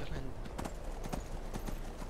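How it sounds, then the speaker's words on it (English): A horse's hooves clip-clop in a steady trotting rhythm in the fantasy video game Skyrim. The hoofbeats sound quiet and muffled under dense game ambience. "I look really badass in my Nightingale armor on the back of this horse"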